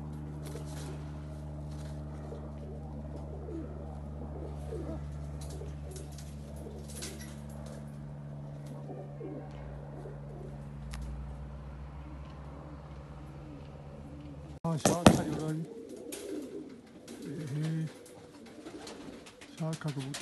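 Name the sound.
pigeons cooing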